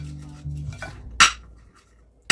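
Seasoned chicken gets shaken and mixed in a pot, with soft rattling followed by a couple of sharp metallic clinks against the pot, close by, and no talk.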